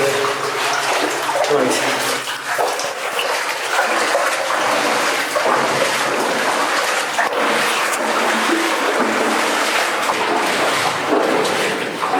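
Water pours steadily into a flooded, overflowing shaft, making a continuous loud rushing and splashing from start to finish, with a few brief spoken words over it.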